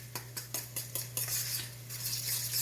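A fork works elk bacon burger meat in a bowl, giving a steady run of close, quick scraping clicks and soft squelches that blend into a continuous mixing rustle.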